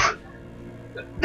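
A person sneezes close to the microphone in one sudden burst, followed by a brief quieter lull and a second sharp exhale.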